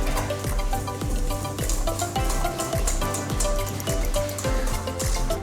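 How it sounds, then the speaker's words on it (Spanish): Sugar and egg being whisked for brownie batter: a rhythmic, scraping whisk beating against the bowl roughly twice per second, close and fairly loud, with no talking. "Bueno, entonces tenemos aquí el azúcar y el huevo, y lo que vamos a hacer es batir"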